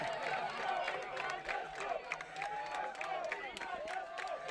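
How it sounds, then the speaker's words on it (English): Crowd cheering and shouting at a World Lacrosse Championship match between England and Australia, a steady, busy roar of many voices filling the stands throughout, with scattered whistles and whoops rising above. "both sides definitely cheering for Uganda"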